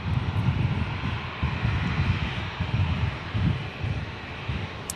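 A jet airliner engine at Brisbane airport gives a moderate, steady low rumble that swells and fades slightly, heard from a distance with no talk.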